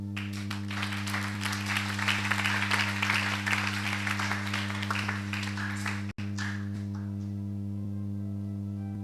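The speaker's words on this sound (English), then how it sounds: "Can you clap your hand?" Church congregation clapping hands, a dense steady patter for about six seconds over a constant low electrical hum, then breaking off abruptly and leaving only the hum and faint room noise.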